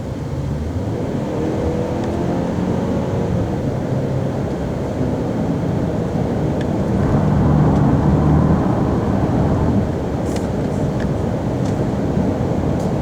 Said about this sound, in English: After we get on the ramp, I'll go ahead and demonstrate a little acceleration.